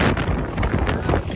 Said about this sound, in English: Winds currently, John? 37 gusting with 48 knots.